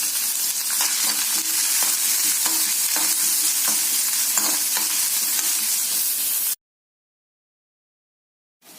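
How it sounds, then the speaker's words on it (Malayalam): Grated coconut fries in a spoonful of ghee while being stirred, giving a loud, steady sizzle with rhythmic scraping strokes for several seconds before cutting abruptly to silence. "തേങ്ങ തൊട്ടിട്ട് വറുത്തെടുക്കും"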